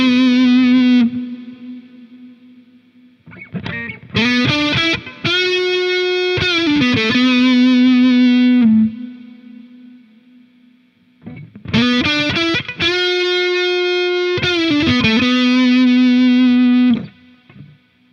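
Electric lead guitar runs through AmpliTube 5 with a high-pass low cut, playing distorted sustained notes and bends in two phrases separated by a quiet gap, loud and close with no talking.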